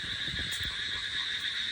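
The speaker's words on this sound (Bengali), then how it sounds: "শুনতে পারতাছো হ্যাঁ ঝিঝি পোকার ডাক" Crickets chirp steadily at night on a quiet village rooftop, a thin, constant high-pitched trill running unbroken through the whole stretch, with faint low rumbles underneath.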